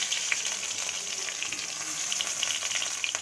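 Whole garam masala crackling in hot mustard oil for a Bengali potato and brinjal dish, a dense, bright sizzle with scattered small pops, steady and close throughout, no talking.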